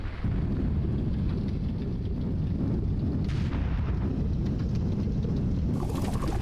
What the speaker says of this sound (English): I was just bouncing the bombs off the wall for fun